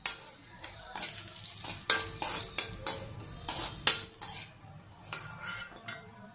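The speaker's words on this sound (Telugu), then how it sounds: "జీడిపప్పు వేపుకుంటున్నాం కదా." Cashew nuts fry in a pan for poha upma, a quiet sizzle broken by repeated scraping and clinking of a spoon stirring against the metal at close range.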